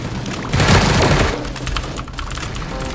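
Gunfire in the mobile battle game Sausage Man: loud rapid bursts of automatic shots clustered together, followed by scattered single cracks and sharp metallic clicks.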